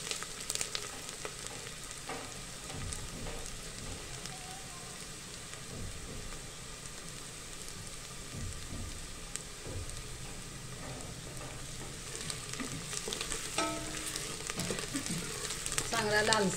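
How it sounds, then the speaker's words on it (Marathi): Chopped onion sautéing in a pan until golden brown, the first step of a spicy Satara-style mutton thali; a close, continuous crackling sizzle with occasional stirring scrapes and no talk. "तांबूस रंगावरती कांदा परतून द्यायचा आहे आपल्याला"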